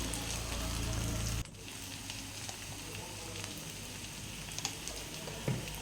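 Egg curry sizzles in a hot pan as egg masala powder, Kashmiri chilli powder and turmeric are stirred in. A steady, soft frying hiss runs throughout, broken by a brief scrape near the end.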